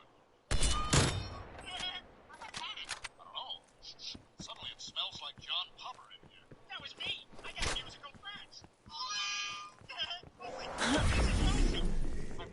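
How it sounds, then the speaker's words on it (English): Sniper rifle fire in a multiplayer video game, sharp loud reports scattered through the stretch with a heavier burst near the end, mixed among busy in-game effects and chatter. "snipers sound so brutal."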